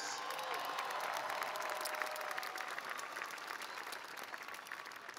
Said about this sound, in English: A round of applause to the moms and dads.